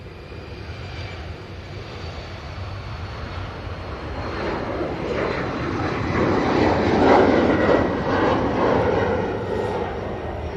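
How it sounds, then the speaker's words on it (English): A KLM airliner rolls down the runway on takeoff at Manchester Airport, its jet engine roar building from a distant rumble to a louder peak and then easing slightly. "KLM is now on the roll."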